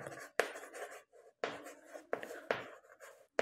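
Numbers being written on a board during a primary-school math lesson: several short scratchy strokes in uneven bursts with brief pauses between, close and fairly quiet, without speech.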